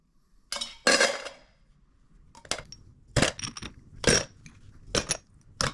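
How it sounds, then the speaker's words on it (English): Cleaned metal parts from a 1974 VW Beetle are dropped into a tub, giving a series of close, sharp clinks and rattles in small irregular bursts with quiet gaps between them. "I'm just going to put them all in this tub so they can go in the ultrasonic cleaner"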